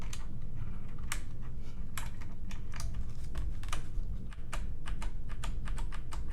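Steady typing on a Keychron C2 keyboard with Gateron switches, a run of crisp, evenly spaced key clacks heard up close and alone, fairly quiet against a low background hum.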